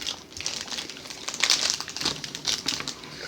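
A banana flavor toffee wrapper being unwrapped gives steady close crinkling and crackling plastic rustles, with brighter bursts partway through and no talk.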